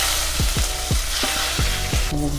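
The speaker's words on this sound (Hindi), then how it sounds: "इसमें मैंने 2 चम्मच लहसुन अदरक का पेस्ट बना के रखा है, इसको मैं ऑयल के साथ फ्राई कर लूँगी।" Garlic-ginger paste, about two spoonfuls, sizzles and crackles steadily in hot oil in a pan, with a series of scraping stirs from a spoon at regular intervals, close and fairly loud, no talking.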